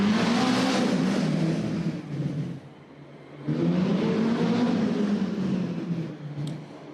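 Race car number 99, a rookie's machine, at a Fort Wayne indoor race, runs a fast qualifying lap; a loud engine roar surges, dips briefly mid-lap, then returns strong and steady.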